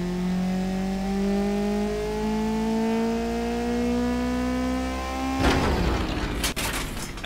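A car engine in the Automation game revs steadily upward toward its RPM limit with a rising whine, then fails abruptly with a harsh, noisy burst and clattering breakup.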